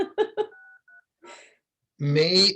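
Telephone keypad tones beep in a quick cluster of short touch-tone presses, with a couple of fainter tones after, followed by a brief voice and a longer loud tonal sound.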